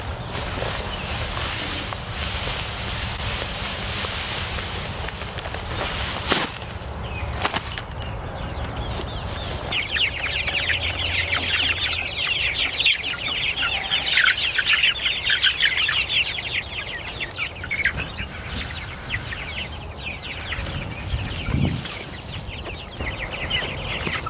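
Pastured chickens in chicken tractors cluck and chatter steadily for a while amid rustling background noise, the clucking strongest in the middle stretch.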